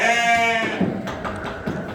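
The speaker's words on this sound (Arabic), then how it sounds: "هادي معزة هادي متوحة زوينة تبارك الله" A goat bleats loudly and close by in a long wavering cry, followed by fainter rustling and scuffling sounds.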